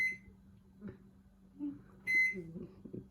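A few short, high electronic beeps from a microwave keypad sound at separated moments over a quiet low hum and faint handling noises.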